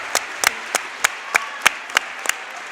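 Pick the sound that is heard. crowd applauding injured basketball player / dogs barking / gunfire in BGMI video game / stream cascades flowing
crowd applauding injured basketball player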